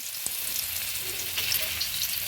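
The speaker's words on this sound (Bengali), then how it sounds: "মাছের মাথা ভাজা কড়াইটার মধ্যে আমি আর একটু সর্ষের তেল দিয়ে এবার আলু ভেজে নিচ্ছি।" Potatoes frying in mustard oil in a wok that previously held fried fish heads, giving a steady, close crackling sizzle with faint scattered pops and no voices.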